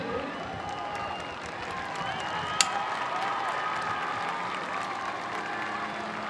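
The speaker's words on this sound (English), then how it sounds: "How about a big round of applause for that guy with the big voice?" A large crowd applauds and cheers at a UIL marching band and color guard event, a steady, even wash of clapping and crowd noise throughout, with one sharp knock midway.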